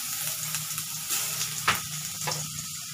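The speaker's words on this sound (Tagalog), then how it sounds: "So, unahin ko muna ang luya." Ginger sautés in hot oil for tinolang manok, giving a close, continuous sizzle punctuated by scattered clinks and scrapes of a stirring spoon against the pan.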